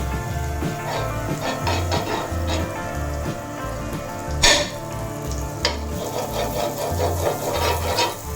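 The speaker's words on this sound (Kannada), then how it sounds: "ಸ್ವಲ್ಪ ಬಿಸಿ ಆದಮೇಲೆ ಅದಕ್ಕೆ ಸ್ವಲ್ಪ ಬಟರ್ ಹಾಕಿ" Butter sizzling in a hot pan for French toast: a steady crackling fry with scattered pops and a few sharper scrapes, close and continuous, without talk.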